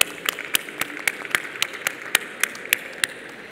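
Audience at a public procurement panel event clapping, a sparse group applause of distinct individual claps in an uneven rhythm, moderately close and steady for several seconds.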